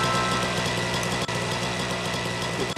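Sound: lawnmower engine in video game Scribblenauts Unlimited

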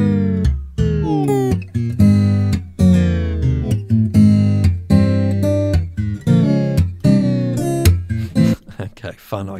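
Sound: tape slow-down and speed-up effect, Tape Mello-Fi plugin

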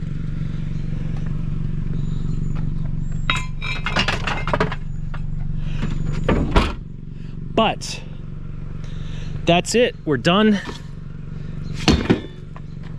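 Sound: noisy car interior while driving

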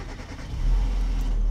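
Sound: car engine being started

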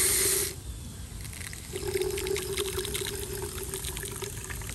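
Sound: water being poured slowly into a container

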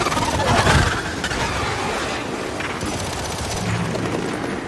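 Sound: gunfire in Gears 5 video game

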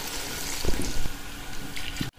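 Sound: hot water poured into pot of frying chicken

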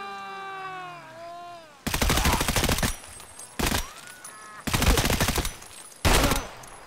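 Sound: gunfire in the video game Escape from Tarkov

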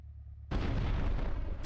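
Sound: remote explosive detonating in video game

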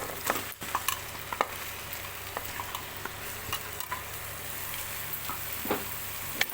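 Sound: mutton added to frying onions in pan

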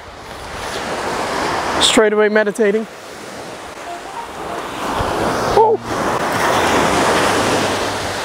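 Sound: ocean waves on the beach

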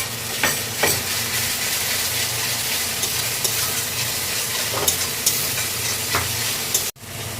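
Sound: frying garlic, ginger and coriander root paste in a pan

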